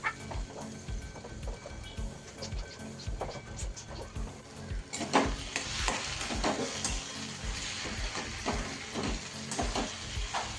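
Potatoes being stirred and turned in hot spiced oil with peas in a pan, a steady sizzle with repeated scraping strokes, close and fairly loud throughout, without talk.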